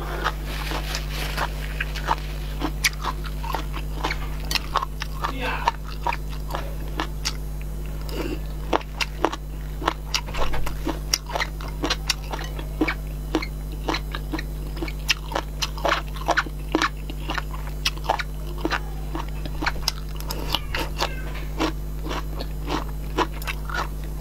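Raw shrimp being bitten and chewed close to the mic, with sharp, irregular crunchy snaps and wet chewing clicks scattered across a quiet, low-humming background.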